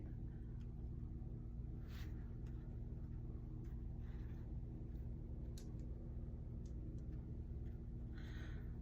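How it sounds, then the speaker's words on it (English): Steady low traffic rumble from a nearby road, with a few faint passing sounds and no talking. "Traffic is here."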